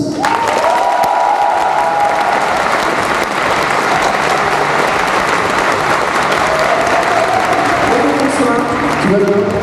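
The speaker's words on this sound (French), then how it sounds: "Un tonnerre d'applaudissements pour la directrice générale du parc Astérix, Madame Delphine Ponce" An audience at a Parc Astérix fan event gives a loud, sustained ovation for the park's director general, thick continuous clapping with some crowd noise and cheering running throughout.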